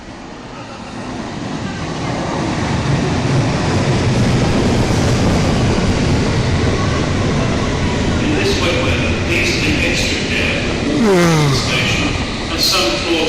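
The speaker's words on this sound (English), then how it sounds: "Train approaching." A London Underground train approaches the platform with a loud, steady rumble that builds and holds, and high metallic squeals of wheels and brakes rise toward the end.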